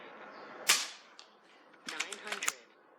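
An FX Impact M3 air rifle firing .25 unsorted pellets outdoors in high wind at 87 yards: one sharp crack near the start, then several quick clicks and snaps, with wind noise underneath and brief talk.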